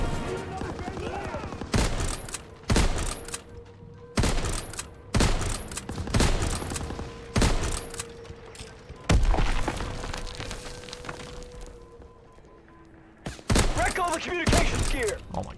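Gunfire in a Call of Duty match, several sharp loud bursts in uneven clusters with pauses between them, alongside game effects and a speaking voice.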